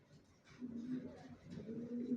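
Young racer pigeon squabs in a loft coo in soft, low repeated phrases, several overlapping calls rising and falling over a quiet background.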